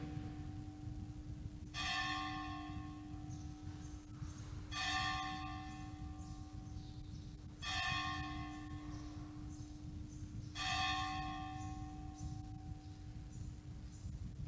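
A temple bell in Vrindavan rings four times at roughly three-second intervals, each bright metallic strike decaying into a long shimmering hum over a steady low drone.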